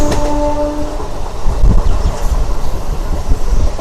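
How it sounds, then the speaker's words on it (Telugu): MEMU express train wheels rolling on track, close and loud, a steady rumbling clatter with irregular knocks, and a brief tonal squeal at the start. "ఆల్మోస్ట్ మన ట్రాక్ సౌండ్ కూడా ఎలా వస్తుంది చూడండి."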